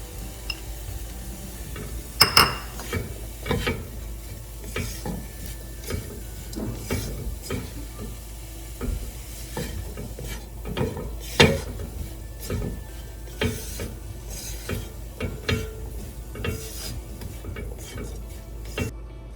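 Grated paneer goes into a pan for paneer bhurji and is stirred, giving soft, irregular scraping taps of a utensil against the pan over a faint sizzle, close up, with no talking.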